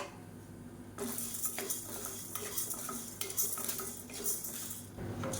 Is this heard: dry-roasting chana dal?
yes